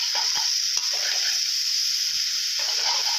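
Bamboo shoots and egg are stir-fried in a hot pan, giving a steady bright sizzle with faint scraping stirs and a few soft knocks. The sound is close and continuous, with no talk.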